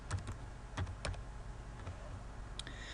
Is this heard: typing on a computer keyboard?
yes